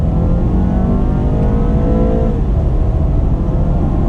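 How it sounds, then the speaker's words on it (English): A 2019 BMW 330i with a 255-horsepower turbocharged inline-4 accelerating hard in sport mode, a loud, steady engine drone that climbs through the revs with no talking over it. "As we roll out, I'm gonna get on the loud pedal."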